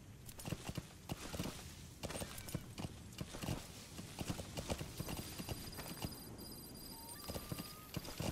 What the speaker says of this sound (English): does it seem like the animation and the sound for D-Horse is playing slightly faster than it should be?